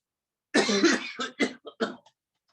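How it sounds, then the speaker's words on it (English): A deliberate cough during a breathing exercise: one strong, drawn-out cough followed by three or four shorter, fading cough bursts, close and fairly loud with no talking. "Again, breathe in and cough again."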